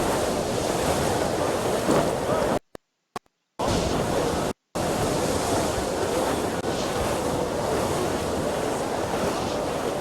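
Wind and crashing waves of a sea squall in Assassin's Creed Black Flag roar loud and continuously, cut by two brief silent gaps, with no talking.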